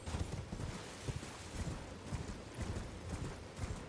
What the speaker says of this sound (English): let's go ahead and call up on our horse